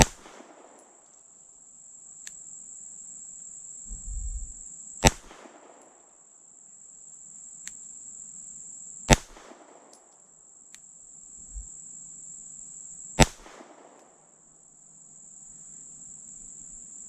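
Three sharp, loud pistol shots from a Shadow Systems CR920P fired outdoors on a muggy day, spaced about four seconds apart, each cracking and echoing over a steady background of chirping crickets and insects.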